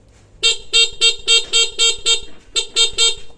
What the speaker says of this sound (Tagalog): Busina muna tayo. Busina.